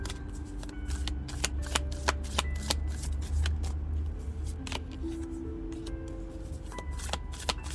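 Oracle cards being shuffled by hand, a continuous close riffling and flicking with sharp repeated snaps of card edges, fairly soft and steady.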